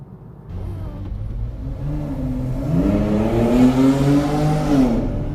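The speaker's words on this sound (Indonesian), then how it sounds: "mobil-mobil sport pada keluar dan melajukan mobilnya dengan cukup kencang di jalan tol" Sports cars accelerate hard on a toll road near Serpong on a Sunday, their engines rising in a loud, sustained rev with a climbing whine, heard from nearby.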